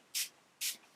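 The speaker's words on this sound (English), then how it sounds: "we're just going to spray it." Two quick hissing bursts of a makeup priming spray misted onto a face, close by, separated by a brief pause.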